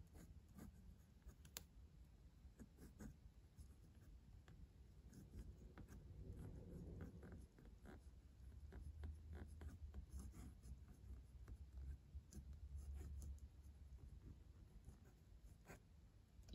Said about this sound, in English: Now I'll just do a quick writing sample.